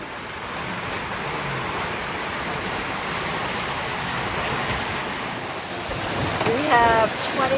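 Wind and 8 to 10 foot seas rush steadily around a sailboat offshore near Cape Hatteras in 20 to 28 knot winds, a continuous broadband roar of water and gusts that swells slightly louder near the end.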